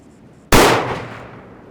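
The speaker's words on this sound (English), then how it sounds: "we are shooting this out of a 26-inch barrel" A single loud rifle shot from a 300 Blackout fired through a 26-inch barrel, a sharp crack followed by a decaying ring-out, alone with quiet before it.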